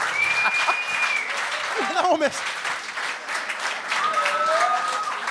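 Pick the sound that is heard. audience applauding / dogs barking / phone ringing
audience applauding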